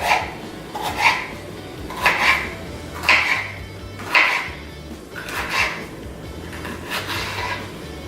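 A knife chops through meat on a board in repeated, evenly spaced thuds, roughly one per second, close and fairly loud with no voices.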